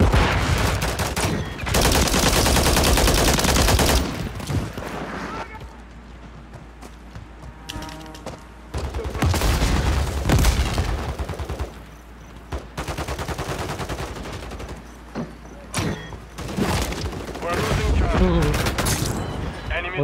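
Repeated loud bursts of automatic weapon fire in a Call of Duty Modern Warfare Domination match, with short lulls between volleys and occasional voices underneath.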